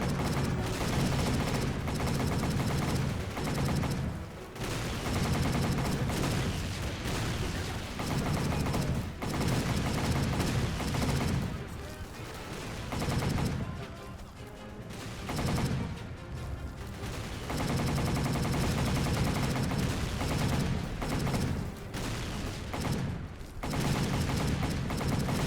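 Sustained machine-gun fire in the World War II shooter Battle for the Pacific, rattling bursts and near-continuous volleys with scattered explosions, loud and busy across the whole stretch.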